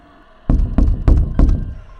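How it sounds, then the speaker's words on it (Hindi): Three light knocks land on a glass shop door in quick succession, close and fairly loud, alone after a moment of quiet. "तभी कांच पर 3 हल्की हल्की दस्तक हुई।"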